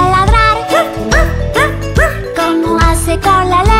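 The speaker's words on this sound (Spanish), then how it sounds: "Como hace el perrito, como hace al ladrar" A dog barks in short, rising yips set into a bouncy children's song about farm animals; about eight barks fall on the beat over steady backing music.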